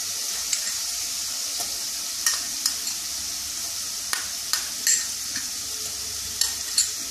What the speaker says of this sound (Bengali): এবারে আমি এই পোস্ত বাটাটা দিয়ে দেব।